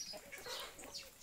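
Purebred chickens, including Plymouth and other breeds, clucking in a farm yard, a soft, continuous jumble of short clucks at moderate distance with no voices over it.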